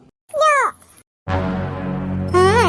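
Children imitate cat meows in a playful home setting, giving a few close, loud, wavering meows with short pauses between them and one longer drawn-out cry.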